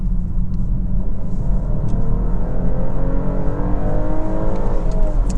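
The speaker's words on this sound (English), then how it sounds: "Floor the accelerator and it just switches to hybrid and you get all the power." A 2024 BMW X5 xDrive50e plug-in hybrid accelerates at full throttle, its engine a loud, sustained rumble with rising gear-by-gear pitch sweeps heard from inside the cabin.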